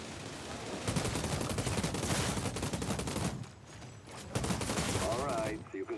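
Rapid bursts of gunfire from the video game Outriders, played on PC, fill most of the stretch in loud dense volleys with a short lull midway before firing resumes.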